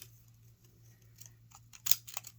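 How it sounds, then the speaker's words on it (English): A few quick snips of craft scissors cutting paper, sharp and close, after a quiet stretch with a low steady hum. "So I'm going to use my handy dandy scissors that I just love."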